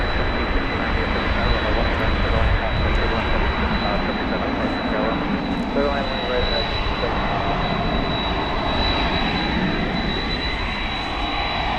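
A Boeing 777 at DFW Airport taxiing and turning for a takeoff to Los Angeles, its jet engines giving a loud, dense, continuous roar with a steady high whine, while a voice talks beneath.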